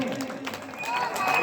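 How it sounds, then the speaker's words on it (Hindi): Audience applause at a 2023 award distribution and closing ceremony of a committee in Kotdwar, a dense wash of clapping that swells toward the end, with voices mixed in. "भाई राकेश साहब और जोरदार ताली"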